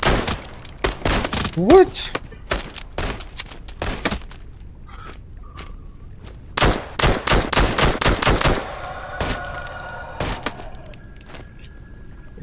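Rapid bursts of gunfire ring out in Into The Radius 2, sharp shots clustered in quick volleys with short gaps, loud and close, with a brief voice and some scraping movement between them.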